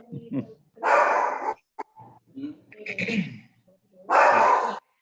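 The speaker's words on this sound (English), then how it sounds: "We got a dog barking somewhere." A dog barks in a few loud bursts, close by, with a short yip between them and people talking around the barks.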